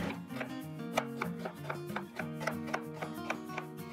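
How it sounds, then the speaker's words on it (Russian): A knife dices an onion into medium cubes rapidly and steadily on a cutting board, a close, crisp series of even taps with no talking. "средними кубиками порежу репчатый лук."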